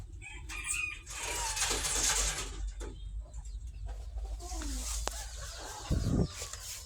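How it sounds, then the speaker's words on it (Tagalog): Chickens cluck around egg-laying nests in a farmyard, with a rooster crowing and other birds calling nearby; a voice talks intermittently among the fairly loud, close flock sounds. "Meron din tayo ditong manok na nangitlog."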